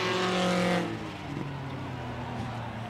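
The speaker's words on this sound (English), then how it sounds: "A lot of speed in that bread truck." A bread truck runs a gauntlet race at Rockford Speedway, the engine roar swelling loudly as it passes close, then dropping to a lower, steadier hum from farther off.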